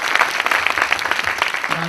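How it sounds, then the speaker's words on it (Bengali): Audience clapping after a stage dance performance, a lively patter of applause with distinct individual claps, and a brief voice surfacing at the very end. "আর যদি ভালো লেগে থাকে তাহলে একটা জোরে হাততালি।"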